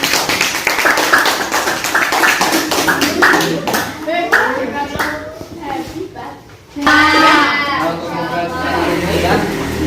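Classroom of seventh-grade pupils clapping together, a dense burst of applause that fades mid-clip, then a second loud round of clapping picks up, with children's voices mixed in.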